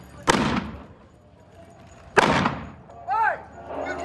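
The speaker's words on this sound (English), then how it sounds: "He's shooting up the saloon." Two loud, sharp gunshots ring out about two seconds apart during a Wild West saloon gunfight re-enactment, with a brief vocal sound after the second shot.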